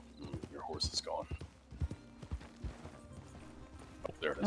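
Horse hooves clip-clopping in the RedM roleplay game, irregular muffled hoofbeats at a moderate pace under intermittent talk, with a brief whinny-like sound.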